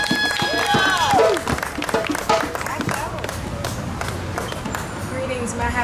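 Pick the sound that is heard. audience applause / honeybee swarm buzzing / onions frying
audience applause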